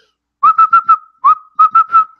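A person whistles an imitation of a northern cardinal's call: clear, near, bright slurred notes in two quick phrases of several repeated chirps with a short pause between them.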